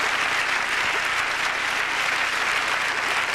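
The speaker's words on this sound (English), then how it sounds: "Give him a nice round of applause for volunteering." An audience at a magic show applauds a volunteer, a loud, dense, steady clapping that fills the room for a few seconds with no voices over it.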